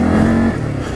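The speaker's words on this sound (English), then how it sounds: "Nice little exhaust note to it as well." Engine of an Argo XR/XTR 500 ATV quad revving, with a loud steady exhaust note that drops off about halfway through the brief burst.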